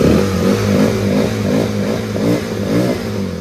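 A Rusi Flash motorcycle engine idles steadily up close, a throbbing, slightly uneven mid-pitched putter with faint mechanical clatter and small fluctuations in revs, without any talking.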